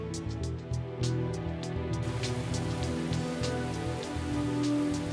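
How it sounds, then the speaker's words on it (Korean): Rain falls steadily at night on a large dam construction site, a dense continuous hiss with scattered pattering drops over a constant low machinery hum, the downpour thickening after the first two seconds. "새벽이 되고 비가 내리기 시작했다."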